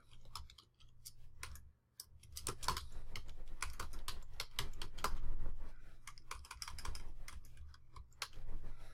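A search is typed on a computer keyboard: rapid, close keystrokes in bursts with brief pauses, and no voices over them.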